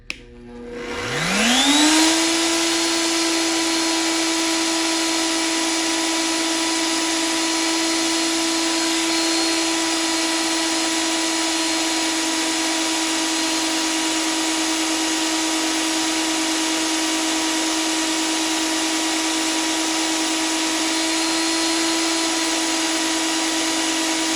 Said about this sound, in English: I'm gonna go ahead and turn this on and just show you guys real briefly of it drilling